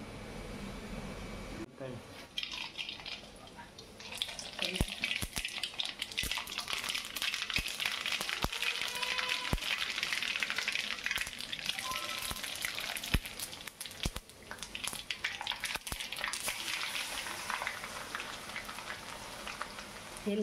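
Garlic, cumin, mustard seeds and curry leaves crackle and sizzle steadily in hot oil for a tempering, with a dense spitting hiss and sharp pops and a voice talking over it.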